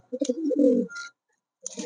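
Close, soft coos from Giribaz pigeons, a throaty rolling call followed by a pause and another coo, with no talking.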